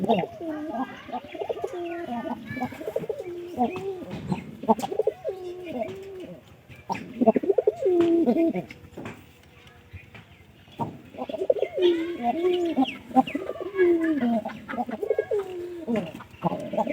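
Pigeons coo repeatedly up close in soft, throaty, rolling phrases with short pauses between them, while birds are handled near a cage.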